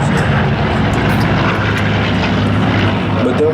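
A Supermarine Spitfire flying at the Flying Legends airshow gives a loud, steady propeller-engine drone that fills the whole clip without a break.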